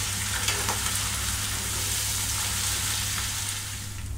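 Fried onions with ginger-garlic paste sizzle steadily in a pan while cooking trotter paya in Lahori style, a continuous close frying hiss with no voices.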